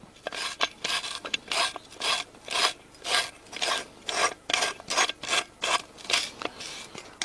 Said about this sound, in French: Alors première chose, on va creuser simplement.